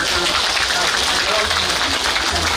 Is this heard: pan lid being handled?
no